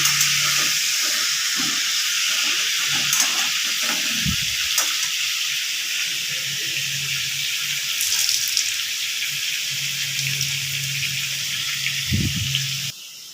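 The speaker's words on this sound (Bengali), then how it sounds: "এবার আমি আলুটা ভেজে নেব" Continuous sizzling hiss of potatoes frying in oil, close and steady, with occasional low clunks from the pan.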